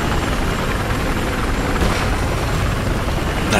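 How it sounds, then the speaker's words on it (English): Helicopter in Battlefield 4, a loud continuous rotor and engine roar with a steady, close wash of noise throughout. "Can you repair the helicopter you're in?"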